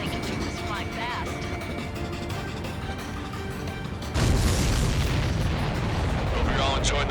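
Explosions from the air-combat video game Ace Combat 7 roar in a dense, continuous wash, surging louder partway through and staying heavy to the end, with a voice talking faintly underneath.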